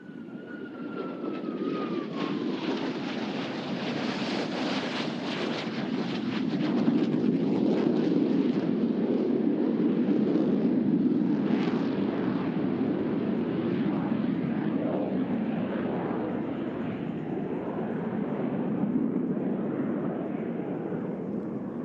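Blue Angels jets at the NAS Oceana air show flying an opposing knife edge pass: a loud, sustained jet roar that swells midway as the aircraft pass close, then holds a broad rumbling wash with no talk.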